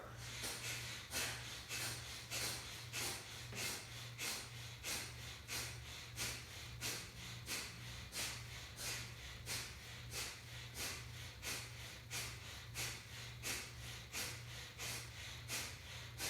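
Forceful Bhastrika bellows breathing during a Kundalini yoga practice: quick, sharp nasal breaths repeat in a steady, even rhythm of about one per second, close and fairly quiet, with no talking.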